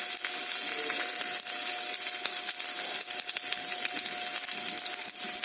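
Ginger and cumin seeds fry in hot oil as a tempering for varagu rice pongal, giving a steady, dense crackling sizzle with scattered sharp pops throughout.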